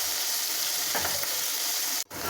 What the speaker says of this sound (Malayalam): ഇനി ഇതിലേക്ക് നമുക്ക് സവാള അരിഞ്ഞു വെച്ചത് കൂടി ചേർക്കാം. എന്നിട്ടൊന്നുകൂടി നന്നായി ഒന്ന് മിക്സ് ചെയ്ത് കൊടുക്കാം.